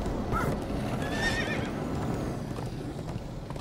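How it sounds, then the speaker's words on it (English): Horses in Minecraft: Story Mode neigh and whinny during a frantic ride, with one clear whinny over a steady patter of clip-clopping hooves and busy game background. "Come on, horses!"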